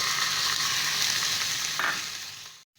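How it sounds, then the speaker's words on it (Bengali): Vegetables sizzle and crackle in a hot pan with peanuts for spicy vermicelli, a dense close frying hiss with a brief stirring scrape before it cuts off abruptly. "এখন এর মধ্যে আমি ভেজিটেবলসটা দিয়ে দেব"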